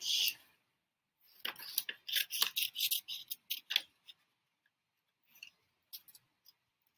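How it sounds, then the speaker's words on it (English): Scissors snip through paper for a St Patrick's Day mobile craft in a quiet room, with a run of close, crisp cuts in quick rhythm followed by a few sparse snips. "Okay, so I'm going to now cut that out."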